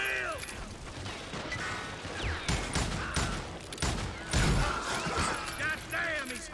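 Gunfight in the Western video game Call of Juarez: Gunslinger: scattered gunshots and sharp impacts ring out at irregular intervals, with a few louder blasts, while voices talk and shout throughout.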